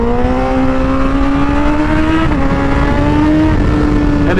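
A 2019 Honda CBR1000RR SP sport motorcycle pulls hard under acceleration, its engine note rising steadily in pitch as a loud, continuous, close-up roar with no speech over it.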